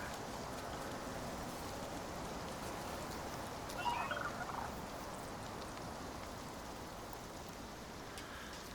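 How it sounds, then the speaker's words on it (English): A moa, a large terror bird in the Icarus survival game, gives a brief gobbling call midway through, rising over a steady wash of outdoor ambience. "That does sound like a moa, but I've never seen a moa, which is the big terror bird in this part of this map."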